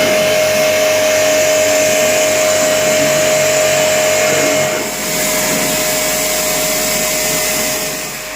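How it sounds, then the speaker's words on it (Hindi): A jet pump machine sprays a pressurized water stream to clean an air conditioner unit, producing a loud, steady hissing rush with a constant motor whine and no talking. "अब जेट पंप मशीन का भी कनेक्शन हो चुका है।"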